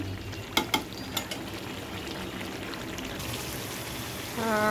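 Goat meat with bones sautés in oil in a pan, with a steady sizzle, a few sharp clinks of stirring early on, and a brighter rushing sound near the end.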